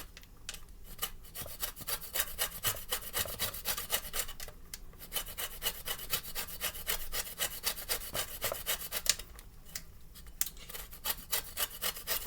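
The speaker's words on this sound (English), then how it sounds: "You can go all the way around this entire lemon, depending on how much lemon zest you would like" A lemon rubbed against a zester, working around the whole fruit for zest. The grating sounds as a steady, close scraping rasp in quick repeated strokes, with brief pauses, and no talking.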